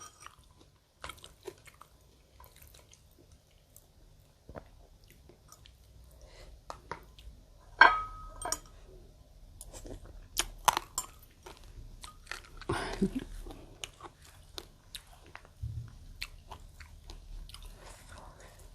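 Someone eating a quail curry (om-style stew with mixed vegetables) with rice, with soft, close chewing and biting sounds, occasional clinks of utensils on a dish, and a quiet room in the background.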